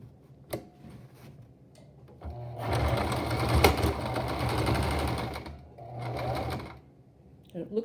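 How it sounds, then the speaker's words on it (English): A sewing machine runs in a steady burst for several seconds, stitching a single line across fabric, with a shorter burst following; close and moderately loud, with a voice briefly in the background. "I'm just going to make 1 stitch across there"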